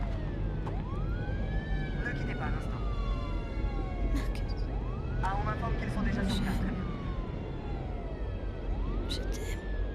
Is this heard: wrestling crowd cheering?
no